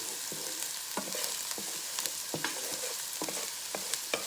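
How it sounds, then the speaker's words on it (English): Turkey wing ingredients sauteing in a pan, a soft continuous sizzle broken by quick, repeated scraping stirs with a utensil, close and fairly quiet, no voices. "And I'm just gonna saute this just for a few minutes."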